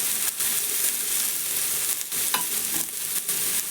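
Cut and washed eggplant pieces going into a hot frying pan, a dense continuous sizzle with brief stirring scrapes, close and steady with no talking.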